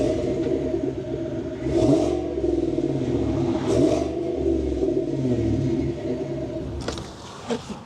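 A 2023 Chevrolet Tahoe with a 5.3-litre 355 bhp V8 idles with a deep, steady rumble, swelling in a few short revs before settling and dropping away near the end, heard close with no voices.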